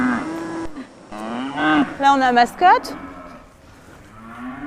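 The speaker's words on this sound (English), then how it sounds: "Every morning, the first thing Jan does is to visit her beloved dairy cows." Dairy cows on a French farm low several times in long, rising moos, close and loud, with a woman's short remark at the start and quieter stretches between calls.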